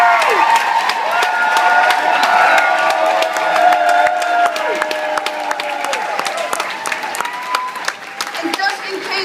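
Crowd at a same-sex marriage election night party applauding and cheering for legislators, with whoops and shouts over steady clapping and talk mixed in.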